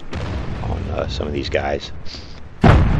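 A tank gun fires once in World of Tanks, a sharp, loud bang near the end after someone talks over faint battle rumble.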